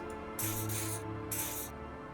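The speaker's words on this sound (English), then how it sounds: "He douses you with the odd smelling spray" Two hissing bursts of aerosol spray applied to the armpits in Disco Elysium, close and clear, over a steady low music drone.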